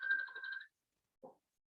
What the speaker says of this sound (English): I don't know who's ringing, and I'm going to ignore it